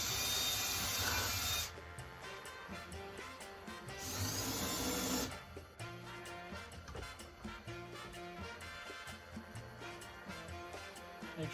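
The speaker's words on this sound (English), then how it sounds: "Pull this off and go pre-drill the holes." A power drill pre-drills holes in wood for a French cleat in a workshop: two sustained whirring bursts of drilling with quieter tool clatter and handling noise between them.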